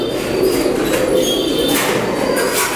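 Several fancy pigeons, including German velvet birds, coo steadily close by in a breeding loft, with soft overlapping calls and an occasional rustle.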